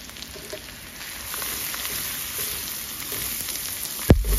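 Cumin and turmeric, with coriander, sizzling steadily in hot oil in a pan, a soft continuous hiss with faint stirring, ending in a sharp knock near the end.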